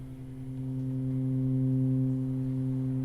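A Plaits synthesizer oscillator voice droning a steady low pitched tone with a few clear harmonics, sustained and even for three seconds, swelling slightly at the start, alone without speech.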